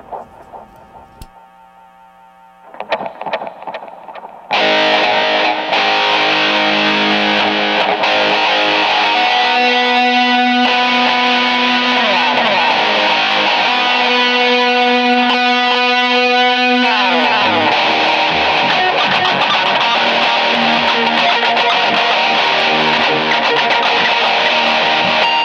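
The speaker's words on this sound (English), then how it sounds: "there's a heavier distortion, a little more heavier delay for that part" Electric guitar riff from a song, played live in Boston with heavier distortion and delay, a loud, dense, sustained wall of echoing overdriven tone after a quieter, cleaner opening few seconds.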